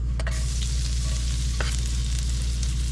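Garlic sizzles in a hot pan for egg fried rice, a steady loud crackling hiss with a few sharper pops and stirring scrapes.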